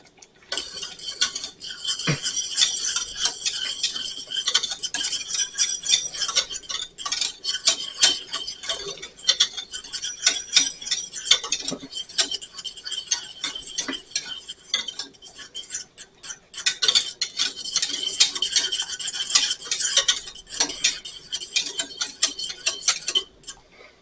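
A whisk scrapes and clicks rapidly against a metal pot of boiling condiment sauce, a steady bright metallic ticking that runs nearly continuously with a few brief pauses, close and fairly loud.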